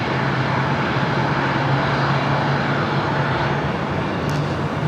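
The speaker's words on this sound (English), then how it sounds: "What you're hearing is an E-jet pulling into the Eagle's Nest below us here at the H Hotel" Embraer E-Jet airliner taxiing toward the gate area at LAX, a steady broadband jet engine roar with a low constant hum, loud and continuous throughout with no voices.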